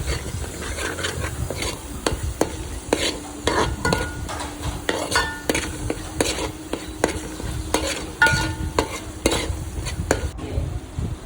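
Tamarind juice is stirred into a simmering crab curry, with repeated sharp spoon scrapes and taps against the pot in an uneven rhythm over a continuous close bubbling sizzle.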